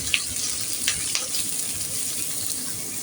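Shallots with crushed ginger and garlic sautéing in a pan for a beef curry, giving a steady soft sizzle with a few faint stirring clicks and no voices.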